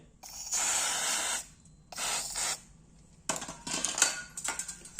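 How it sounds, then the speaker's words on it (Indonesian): Cleaner sprayed onto a scooter's CVT pulley during maintenance after riding through floodwater: several close, loud hissing aerosol bursts, the first long and steady, later ones shorter and choppier with faint clinks between. "Tinggal kita semprot aja."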